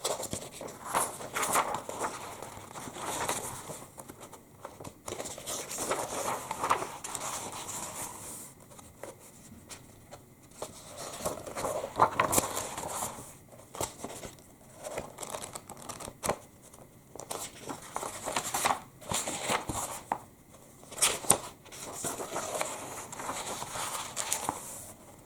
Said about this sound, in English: So let's page turn just a few pages.